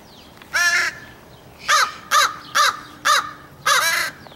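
A crow caws six times in an irregular series, loud and close, each harsh call standing out clearly over quiet background noise.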